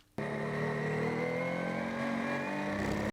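A Ginetta G56 GTA race car engine revs hard and climbs steadily in pitch as it accelerates out of a corner at Snetterton circuit, loud and close, then cuts off.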